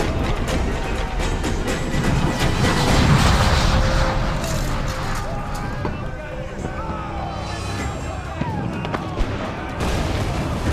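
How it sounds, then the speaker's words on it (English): Ship cannons firing during a naval battle in the video game Assassin's Creed IV: Black Flag, heavy booming blasts rolling over a dense wash of ocean, wind and battle noise across the whole stretch. "Man the cannons!"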